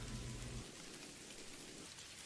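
Steady storm rain falls outside, a dense, even hiss with a low rumble at the very start, heard alone without any voices.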